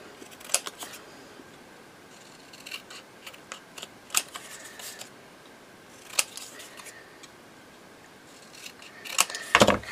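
Scissors snip through paper in a few scattered cuts during altered file folder crafting, each close, crisp and brief against a quiet room, with a louder clatter of handled tools near the end.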